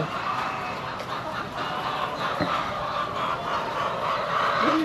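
Chickens cluck and murmur continuously in a dense flock, close by, with steady background noise and no talking.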